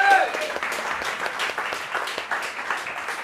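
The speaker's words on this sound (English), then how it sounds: "So yeah, definitely, Danny, hands up, applause." A small group applauds a sous chef in a kitchen during a food and wine pairing event, with steady moderate clapping running throughout.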